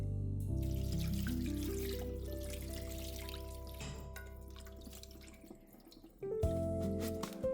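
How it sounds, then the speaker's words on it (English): Cold tap water running into a sink as rice is rinsed, a steady close gush that shifts in pitch as the pot fills, then stops briefly and starts again, with no talk. "So just rinse it under cold water, give it a stir with your hands, and then drain it."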